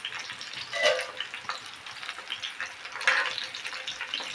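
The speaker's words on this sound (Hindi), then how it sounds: "धीमी आंच पर हम एक तरफ इसे पकने देंगे ऑयल में" Gram-flour-stuffed chilies fry in oil over low heat, giving a soft, steady sizzle and crackle with a few brighter pops along the way.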